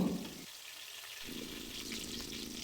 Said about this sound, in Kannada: ಇದು ಸ್ವಲ್ಪ ಸಾಫ್ಟ್ ಆಗೋವರೆಗೂ ಫ್ರೈ ಮಾಡ್ಕೋಬೇಕು